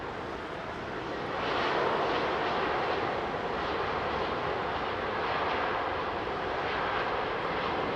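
Jet airliner engines at London Heathrow, operated by British Airways, roar at a distance as a steady broadband rumble that swells after the first second and holds, with no talk.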